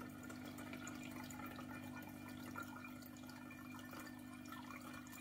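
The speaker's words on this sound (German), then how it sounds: "irgendwie kommt da jetzt das Wasser irgendwie oben rausgesprudelt" Water gushes and bubbles out of the top of a Klarstein Perfect Brew coffee maker, a faint, continuous watery hiss and gurgle that holds steady throughout, with no talking.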